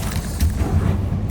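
The Confringo fire-blast spell in Hogwarts Legacy lands as a brief, deep, booming explosion. A low rumble rolls on under short sharp crackles.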